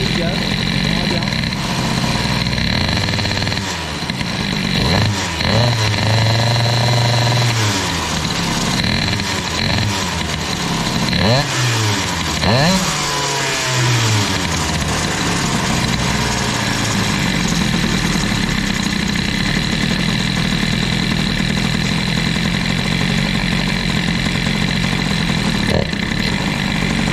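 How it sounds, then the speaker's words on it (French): A CPI 70 two-stroke scooter engine fitted with an Airsal kit idles steadily and close by, its buzzing drone briefly rising and falling with a few throttle blips around the middle. "On pourrait croire que le ralenti est pauvre comme ça"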